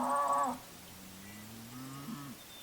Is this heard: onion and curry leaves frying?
no